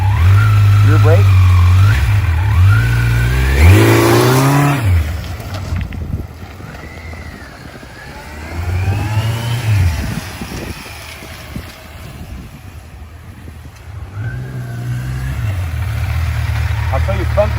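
A motorcycle revs up several times and pulls away hard from a standing start, engine pitch rising and falling in loud sweeps amid wind noise, with a rider talking between the revs.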